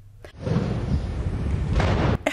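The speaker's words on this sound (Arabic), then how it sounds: "21 طلقة مدفعية هي تحية الشرف العسكري للأبطال" Artillery gun firing a 21-gun salute as military honours at an airport ceremony, a single heavy boom that rolls into a sustained rumbling wash before stopping abruptly, loud and fairly close.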